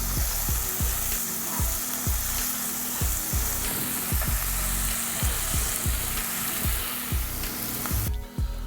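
Onions sauté over medium heat in a pan, a dense, even sizzle close by with regular soft scraping strokes of stirring at a steady rhythm.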